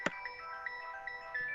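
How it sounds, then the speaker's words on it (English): A phone ringtone for an incoming call rings during a committee meeting, a steady electronic melody with repeating tones, clear and sustained with no talk over it. "sorry guys, getting a phone call"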